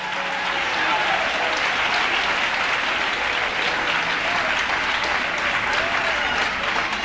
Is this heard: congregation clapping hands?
yes